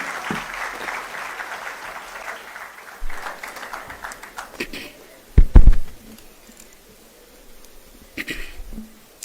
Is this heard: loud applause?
yes